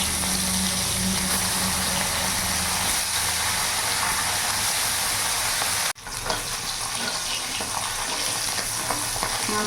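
Pieces of chara pona fish frying in hot mustard oil in a wok, a loud continuous sizzle and crackle up close, with a brief cut midway before the hiss resumes, no voices.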